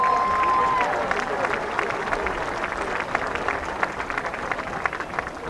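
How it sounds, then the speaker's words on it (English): A crowd at a high school football game applauds the homecoming court, a steady spread of clapping and some cheers that carries on throughout after a brief tone at the start. "Please give this year's court a round of applause."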